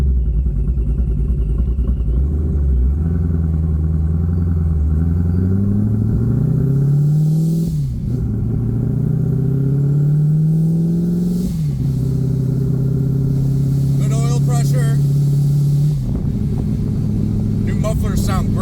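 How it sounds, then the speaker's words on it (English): Supercharged C7 Corvette engine idling and revving with the hood removed, a loud steady rumble rising in pitch through several swelling revs with brief dips between, alone and close. "I don't even have a hood on right now, so you might be able to hear the supercharger."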